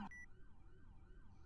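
A faint, low wailing emergency siren from a video game rises and falls in slow repeating sweeps, heard alone after a short electronic blip at the start.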